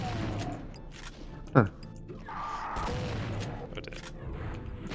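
A single sharp explosion bursts in the video game Heartland, loud and short, amid softer game effects and mutterings from a player.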